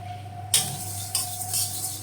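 Moong dal stirred in a dry pan with a utensil, two sharp scraping clinks against the metal followed by softer rustling of the lentils, close and alone over a low steady hum.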